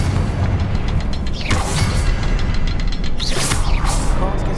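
Confringo blasting spell explosions in Hogwarts Legacy, loud booming bursts with crackling, whooshing bright blasts recurring in quick succession over a dense rumble.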